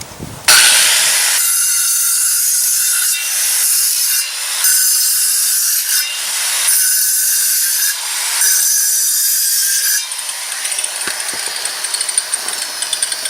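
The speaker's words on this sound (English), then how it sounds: "I'm going to get the hammer and knock all these centers out right here" Harsh, grinding scraping noise like a saw cutting masonry as a hammer knocks out the centers of concrete blocks, steady and loud with brief pauses and shifts, then a lighter rattling texture near the end. No voices.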